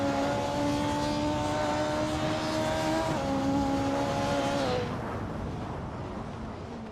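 Race car engines roaring during a video game race featuring a 1986 Audi Quattro A2: a steady high engine drone that holds pitch, dips briefly, then fades away as the cars pass, with no talk.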